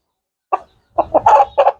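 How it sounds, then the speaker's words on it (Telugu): A Bhimavaram breed rooster clucking up close: one short call, a pause, then a quick cluster of throaty clucks. "ఇది మన భీమవరం పుంజు"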